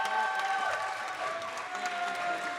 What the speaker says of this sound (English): give a round of applause to the best man